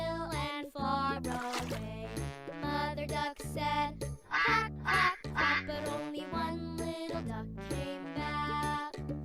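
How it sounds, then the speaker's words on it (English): A duck's quacking sounds over a bright, jingly children's song about little ducks going swimming, the quacks landing in short repeated bursts within the steady music. "Mother duck said, quack, quack, quack"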